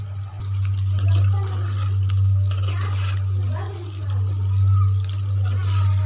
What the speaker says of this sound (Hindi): और साथ साथ चम्मच चलाते रहेंगे ताकि ये नीचे ना लगे